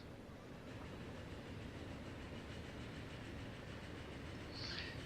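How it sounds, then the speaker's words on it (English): Train running on tracks in the video game Transport Fever, a steady, dense rumble with a faint rhythmic clatter, continuous and moderately loud throughout with no talking. "A glorious train."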